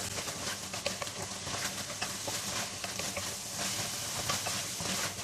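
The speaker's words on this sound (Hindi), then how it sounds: "चनों की भुनाई हो रही है" Black chickpeas roast in hot oil for a curry, giving a dense, continuous sizzle and spatter, loud and close throughout, with no talking.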